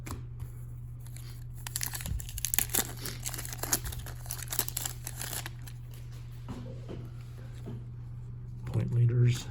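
Hockey card pack wrappers from a 2023 Tim Hortons box, made with tapered edges, being ripped open: bursts of crinkling and tearing, loudest in the middle, under a steady low hum with a voice speaking.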